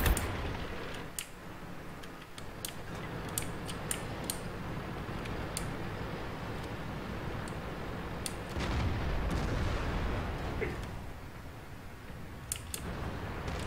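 Artillery fire in the tank game World of Tanks: scattered sharp cracks and distant booming shots over a constant rumbling battle ambience, with a heavier low thump midway.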